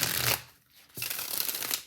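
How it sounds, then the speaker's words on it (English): A tarot deck printed on standard cardstock is shuffled up close, two short rustling riffles of the cards separated by a brief pause. "Here's the very first shuffle, friends."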